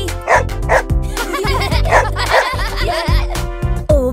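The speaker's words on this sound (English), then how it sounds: "Oh, look! A really cool dog!" A dog barks several times in a cheerful children's nursery rhyme song, the short barks landing over a steady, bright musical backing.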